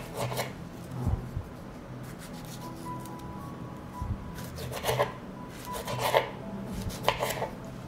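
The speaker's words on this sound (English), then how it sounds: "First, I'll cut the tomatoes." Knife chopping through tomatoes on a board while vegetables are prepared for a preserved winter salad, in several bursts of quick, crisp cuts with pauses between them, close and moderately loud.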